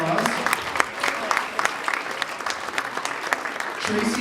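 Audience applause at a film festival reveal party, a dense, steady patter of many hands clapping at close range that swells again near the end.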